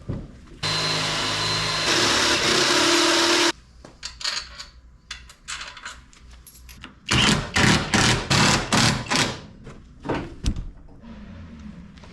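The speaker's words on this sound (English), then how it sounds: "Let's drill some holes." A loud power drill whirs in two continuous bursts while drilling holes for seat mounts in a 1947 Plymouth P15, then several short rattling drilling pulses follow, close by, with no talking.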